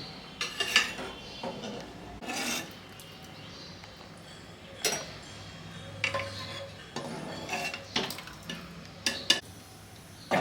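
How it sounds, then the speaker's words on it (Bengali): A saucepan is set down on a stove top, sounding in several sharp metallic clanks and knocks with clattering utensil sounds between them, close and fairly loud. "সসপ্যান আমি এখানে বসিয়ে নিলাম"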